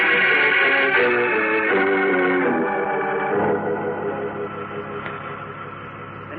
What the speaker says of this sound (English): It's just a mechanical hum from the power equipment.